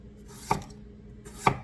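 Two crisp knife chops dicing unpeeled potatoes on a cutting board about a second apart, close and distinct against a quiet background.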